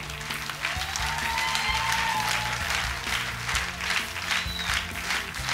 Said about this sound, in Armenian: Ծափարեք թող